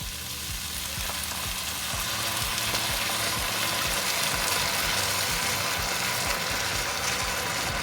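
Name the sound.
coconut milk added to sizzling meatball curry pan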